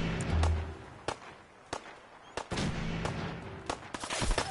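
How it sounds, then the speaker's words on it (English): Gunfire in Fallout 4, a string of sharp separate gunshots cracking out at irregular intervals over a low background hum, with a brief low tone early on and a few quicker bursts toward the end. "Opening fire."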